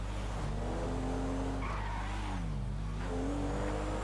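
A car in GTA 5 skids and swerves while driving off-road, its tires squealing in wavering pitch over a constant engine drone, loud and continuous throughout.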